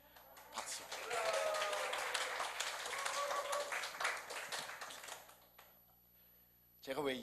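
A church congregation claps during a Sunday worship service, a few seconds of moderately loud scattered clapping that fades out, followed by a brief quiet pause.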